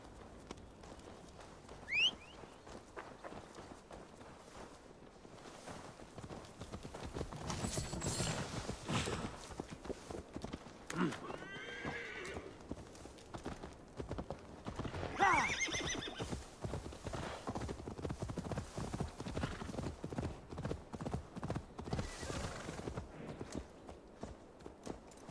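Horse hooves clip-clop at a steady trot in Assassin's Creed Valhalla, a rapid continuous rhythm that grows louder midway, with a horse neighing and brief whistles over it.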